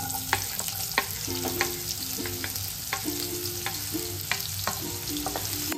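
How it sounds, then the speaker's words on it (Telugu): Chopped onion frying in oil with lightly fried garlic for red sauce pasta, a continuous close sizzle broken by regular rhythmic stirring scrapes and taps of a spoon against the pan. "ఇప్పుడు ఆనియన్స్ వేసుకుందాం."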